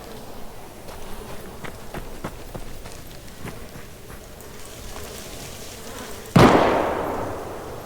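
A single sharp gunshot cracks nearby, loud and sudden after several seconds of quieter, irregular tapping and background noise, its report decaying over the following second.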